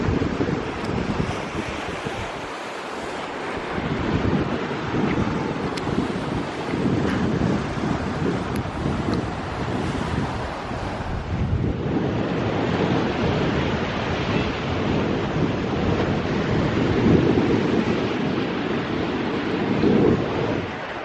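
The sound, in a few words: ocean breeze and waves at jetty, Ponce Inlet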